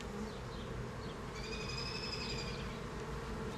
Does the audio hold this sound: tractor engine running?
no